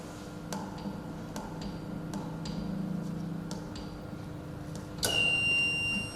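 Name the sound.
control room alarm when a feeder trips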